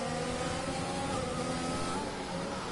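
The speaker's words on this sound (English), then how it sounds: "really revving the engine on exit" A race car engine revving hard on corner exit in a PlayStation Formula racing game at the France round, a steady loud high-pitched whine holding throughout with no pauses.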